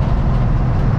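Engine rumble and road roar fill a moving car, a four-speed vehicle bought in Brazil, as it speeds up. The sound is a dense, steady low-frequency drone, loud and continuous, with no clear voices.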